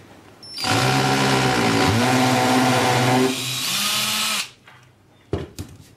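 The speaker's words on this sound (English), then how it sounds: "you need to also mark and drill a hole for the one on the back as well" A power drill whirs loudly and steadily for several seconds, drilling a hole to mount an outdoor solar light, dropping in pitch as it bites, then stops, followed by a few clicks and taps.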